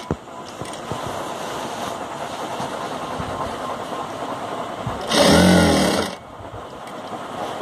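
A sewing machine runs in one loud, close burst of about a second, stitching the leg seam of men's underwear (kachha), with quiet room noise before and after.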